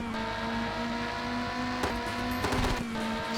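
Race car engine in Test Drive Le Mans 24 Hours on PS1, a steady loud buzzing drone holding constant pitch, with brief clatters and a passing rush near the end.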